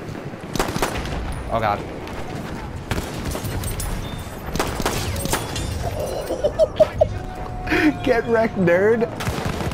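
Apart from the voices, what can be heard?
pistol gunfire in video game Battlefield 1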